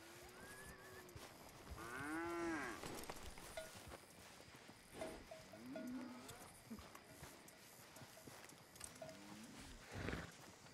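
Cattle lowing in the Red Dead Redemption 2 video game, several drawn-out moos spread across the scene with hoof clip-clops and faint ambient wildlife, interspersed with brief spoken voices.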